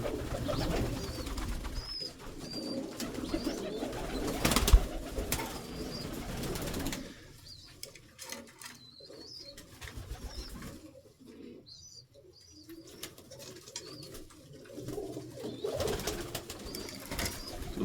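Budapest breed pigeons in a loft, including a hen sitting on eggs: soft, low cooing recurs over a steady background with occasional wing flutters and a sharp knock, with no one talking.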